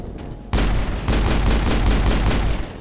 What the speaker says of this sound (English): Long bursts of accurate fire sound pretty good right now.